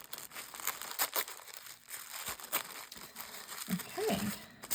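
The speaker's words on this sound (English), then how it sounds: "I'm going to carefully peel this off." A paper thank-you sticker is carefully peeled off a bead-kit package, giving a soft, close crinkling and tearing rustle spread over a few seconds.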